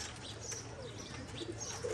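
Pigeons cooing softly among a flock kept by a pigeon keeper, low murmuring coos with faint chirps and a rustle of wings over a steady outdoor hiss, no voices.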